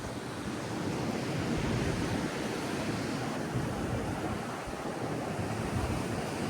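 Sea waves wash in as a steady, broad surf roar that holds an even level throughout, with no voices.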